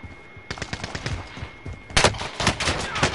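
Automatic gunfire in the battle royale game Call of Duty Warzone: rapid bursts of shots rattle steadily, then a louder, closer volley cuts in, with repeated sharp reports to the end.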